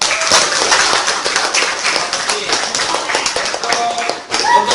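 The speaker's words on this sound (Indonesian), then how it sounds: "Sekali lagi kita berikan aplaus." Students in a classroom applaud a group that has just presented its discussion results, a dense, steady patter of many hands clapping throughout, moderately loud and close.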